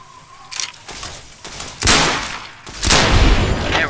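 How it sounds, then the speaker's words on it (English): Gunfire rings out in Fallout New Vegas during a fight with highwaymen, heavy bursts of shots and booming blasts, loud and close, building into a sustained roar near the end. "More shooting."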